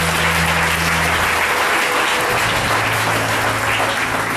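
Loud, dense applause fills a church gathering, many hands clapping continuously and close, with a low hum running underneath throughout.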